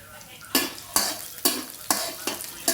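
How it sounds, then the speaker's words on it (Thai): Chopped garlic frying in hot oil in a pan, stirred with a spatula in quick regular strokes, each scrape rising sharply over the steady sizzle, close up with no talking. "เจียวกระเทียม สับในน้ำมันร้อนนะครับผม ให้ได้กลิ่นหอมนะครับ"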